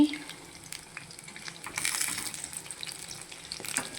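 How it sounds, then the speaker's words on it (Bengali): Bora fritters fry in oil with a soft, steady sizzle at moderate distance, rising slightly midway and continuing without talk. "বন্ধুরা, বড়া ভাজছি।"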